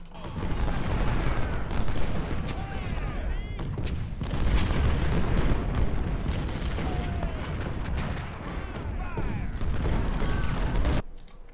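Cannon artillery in the Civil War video game Ultimate General: Civil War booms repeatedly, with dense, overlapping blasts and crackling gunfire running almost continuously at a moderate level before cutting off near the end.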